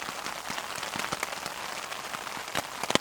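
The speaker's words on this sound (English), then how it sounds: "Looks like rain." Rain patters steadily on a tent during a solo wild camp in the woods, a dense hiss of drops with scattered louder individual taps close by, continuous and unbroken by any voice.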